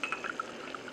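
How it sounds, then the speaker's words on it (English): Liquid pours in a short, close trickle with small gurgling splashes into a pot on the stove while making Nessmuk's Punky Dope, lasting about a second. "Pour that in there."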